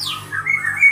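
A white-rumped shama (murai batu) gives a single short whistled call, sliding down and then holding a bright rising phrase. It is fairly close and clear over a low steady hum.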